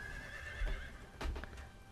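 A horse whinnies twice in the video game Ghost of Tsushima, two short strained neighs at moderate distance with faint hoof clops beneath, no talking.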